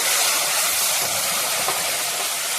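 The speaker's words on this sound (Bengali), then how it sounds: "নারিকেল ফ্রাইগুলো হয়ে আসছে, এখন টমেটো ছেড়ে দেব।" Tomatoes dropped into a hot pan of frying coconut for a sweet chutney, a loud, continuous broadband sizzle heard alone and close up.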